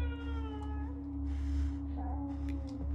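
A cat meows in the video game Conarium, a few drawn-out, wavering cries over a steady low electronic hum, fairly clear and with no talking.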